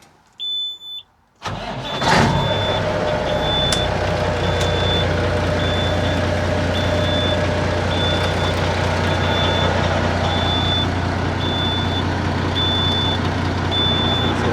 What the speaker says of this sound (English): I'm gonna start up this truck and let it warm up